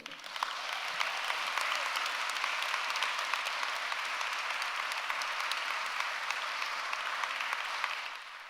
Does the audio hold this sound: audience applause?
yes